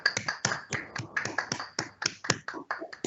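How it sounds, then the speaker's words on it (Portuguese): Someone claps during an online meeting, sharp distinct claps in a quick uneven rhythm, close and fairly loud, with no talk. "vamos aplaudir a nossa grande mestre"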